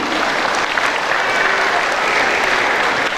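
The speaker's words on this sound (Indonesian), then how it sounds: "Kita kasih aplaus buat Bapak Haji Taufik Rahman" An audience at a Ramadan gathering of an Islamic rural bank in Indonesia applauds for an honoured guest, a dense sustained clapping from a sizeable crowd filling the room at steady loudness throughout.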